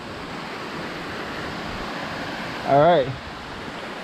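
Steady broadband roar of the Tumpak Sewu waterfall close by, constant and full, with someone briefly speaking over it near the end.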